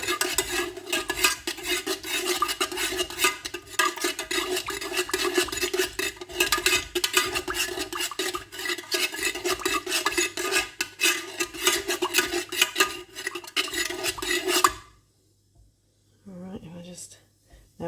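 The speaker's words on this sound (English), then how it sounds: "Let's give it a good stir" Melted container wax being stirred in a pot, a steady scraping and rubbing with the utensil against the sides for about fifteen seconds, then stopping, with a voice speaking over it.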